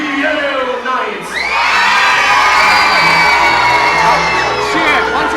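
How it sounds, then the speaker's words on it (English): Crowd of children cheering, whooping and shouting at a Medieval Times educational matinee show, a loud sustained roar of young voices that swells after a brief lull and stays dense throughout. "Cheer! 1, 2, 3, cheer!"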